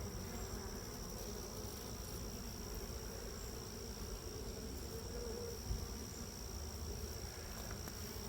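Bees hum in a continuous, even drone at an open hive during a mite check, close and steady throughout with no voices.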